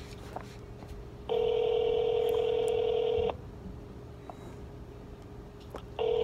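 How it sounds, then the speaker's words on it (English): A telephone sounds its ringback signal while calling someone back, with two long, steady electronic tones separated by a pause, clear and fairly loud against a quiet room. "I'm gonna call her back."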